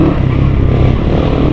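A motorcycle rides over a rough, broken road between San Jose Del Monte, Bulacan and Montalban, Rizal, its engine droning steadily up close with constant rattling and clatter from the bumpy surface.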